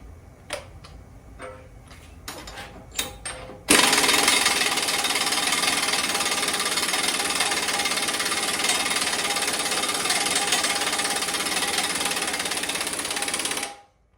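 Impact wrench hammering bolts tight on a backhoe thumb attachment: a few short bursts and clicks, then one long, loud, continuous rattling run of about ten seconds before stopping.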